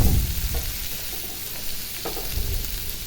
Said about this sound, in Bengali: তারপর এখানে পেঁয়াজ ক্যাপসিকাম এখন ভেজে নিব